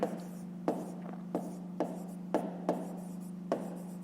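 A pen writes numbers in a school maths notebook, giving a series of sharp scratchy strokes and taps at an irregular rhythm over a steady low electrical hum, close and fairly quiet, with no talk.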